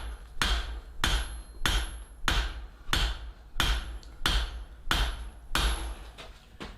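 Eight evenly spaced, ringing hammer blows on hot sucker rod steel, struck with a straight peen at a blacksmith's anvil, close and sharp at roughly one strike per second.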